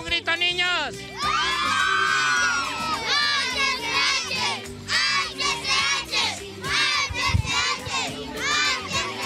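A crowd of children in a capital-city neighborhood shout together at a holiday gift handout with Santa, a loud, sustained chorus of high voices with whoops and cheers rising and falling throughout.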